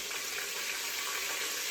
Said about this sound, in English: that's sizzling really hot